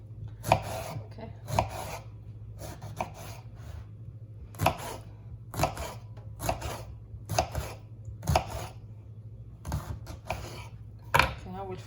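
A knife chops through eggplant on a cutting board in a string of crisp, close thumps and crunchy strokes, spaced roughly a second apart, with a low steady hum behind them and a speaking voice in between.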